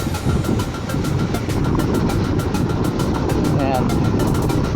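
Road traffic heard from a Honda ADV 350 scooter on the move: a steady, loud roar of engines and wind with a continuous low rumble, and a voice speaking over it.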